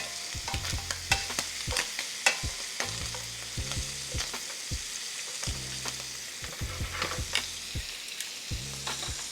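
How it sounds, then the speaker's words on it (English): Shrimp sizzling in a hot pan for garlic noodles, a steady crackling fry broken by repeated clanks and scrapes of a utensil as the pieces are turned over one after another. "we're gonna flip the shrimp over, give the other side a little love and attention"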